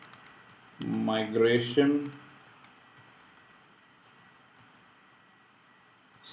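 A burst of keystrokes clicks on a computer keyboard, close and brief, mixed in with someone speaking, followed by quiet with a few isolated taps.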